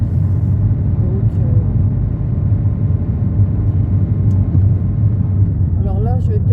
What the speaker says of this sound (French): Même avec le bruit du moteur, hein, ça, je peux rien y faire.